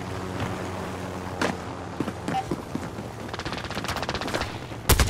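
Rapid video game gunfire crackles in clustered bursts amid game effects, with a loud sharp volley near the end.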